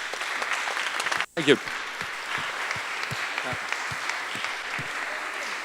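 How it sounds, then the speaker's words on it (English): Faint, scattered applause for a panel at a conference launch event, with a voice speaking briefly early on and light claps continuing after. "ask for a round of applause for our panel"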